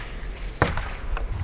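A foam dart from a Worker Harrier 300fps pro Nerf sniper blaster smacks into a target with a sharp, fairly close thud, followed about half a second later by a fainter second tap, over a low background hum.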